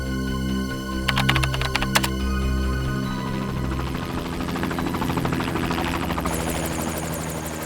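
Helicopter heard in an isolated forest, a steady low rotor drone with rhythmic chopping that carries on throughout at moderate distance, joined by some brief clicking bursts near the start.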